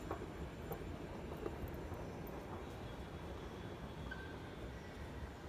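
Mumbai local train running, a steady dense rumble and rattle of the suburban carriages with occasional faint squeals, continuous throughout and fairly close.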